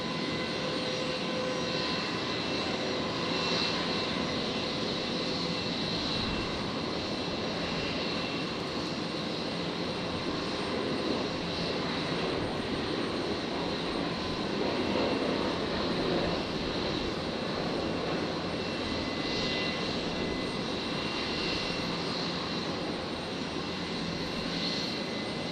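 Steady broadband roar of Qantas Airbus A321neo jet engines at Brisbane Airport as the aircraft readies to depart runway 01 right, a continuous dense drone with no talk over it.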